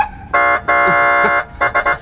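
A police siren control console sounds its horn in several loud, harsh electronic blasts: two long tones, then three short quick bursts close together, with no talk over them.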